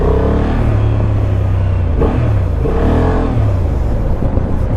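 A 2024 Honda Transalp 750 motorcycle engine revs up and down several times close by, a loud, steady rumbling idle rising into throaty surges with no talking over it.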